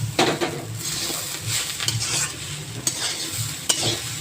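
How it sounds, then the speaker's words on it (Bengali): A spatula stirs bottle gourd peel and potato frying with onion in a pan, giving soft sizzling with several scraping strokes and light clinks against the metal, close and fairly quiet, with no talking. "এবার একটু নেড়ে নেব।"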